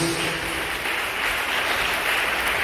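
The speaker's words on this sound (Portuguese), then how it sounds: "dê uma salva de palmas bem alegre para Jesus" A church congregation claps steadily and brightly in praise, a dense wash of hands filling the room for a few seconds with no voice over it.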